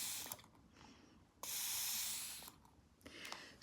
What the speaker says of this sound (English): So I'm gonna spray it in the direction that I want.